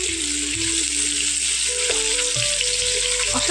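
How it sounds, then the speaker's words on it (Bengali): Chhana (paneer) pieces frying in oil over low heat, a steady close sizzle with faint tonal hum and light clinks, no voices. "আঁচটাকে কমিয়ে নিয়ে ভাজবেন, নাহলে পুড়ে যাবে"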